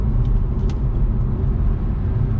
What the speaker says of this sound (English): I'm now just going to put the car into sport mode